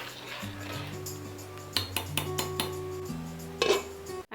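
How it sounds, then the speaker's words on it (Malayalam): A lid placed on a clay pot of sambar, with several clinks and scrapes of metal and clay over a steady low hum, close and fairly quiet. "നമുക്കൊന്ന് മൂടി വെക്കാം."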